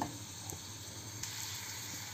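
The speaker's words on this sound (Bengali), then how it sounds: "চলুন আস্তে আস্তে পেঁয়াজটা ভেজে নিই।" Onions fry slowly in a pan, a soft, even sizzle that continues throughout with a couple of faint stirring clicks and no speech.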